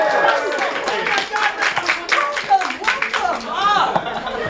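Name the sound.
audience applause at improv show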